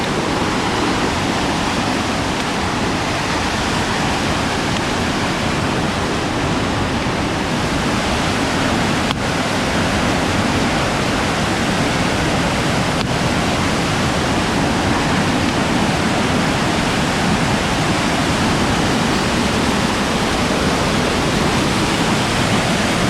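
A powerful Oregon waterfall pours in a dense, unbroken roar, loud and close, holding steady the whole time with no voices over it.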